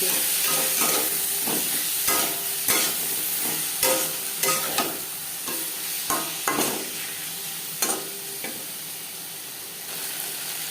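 Ginger and green chili paste sizzles and fries steadily in a pan with potatoes for a Katla fish curry, with repeated scraping stirs of a utensil clattering over the continuous hiss.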